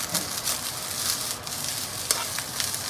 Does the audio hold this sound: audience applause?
no